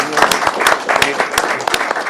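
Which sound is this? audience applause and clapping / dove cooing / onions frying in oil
audience applause and clapping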